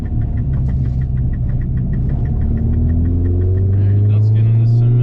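A Mini Cooper R56 JCW engine drones steadily and loudly from inside the car, then its pitch climbs as it accelerates hard toward the end, with a faint rhythmic ticking throughout.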